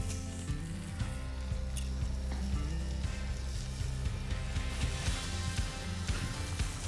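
Shrimp and scallop kebabs sizzle steadily on a campfire grill, a close, continuous crackle and hiss with scattered pops and faint low rumbling, with no talking over it.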